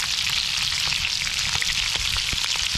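Bacon sizzles and crackles steadily in a hot pan while cooking outdoors, a loud continuous hiss with scattered sharp pops throughout, no voices.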